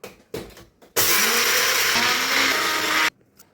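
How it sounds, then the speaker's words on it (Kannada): An electric blender grinds fried spices, with no coconut or dried copra, into a coarse powder for mango gojju: one loud, steady whirring burst of about two seconds, preceded and followed by brief soft knocks. "ಇದನ್ನು ಬ್ಲೆಂಡರಲ್ಲಿ ಪೌಡ್ರ್ ಮಾಡ್ಕೊತಾ ಇದ್ದೀನಿ."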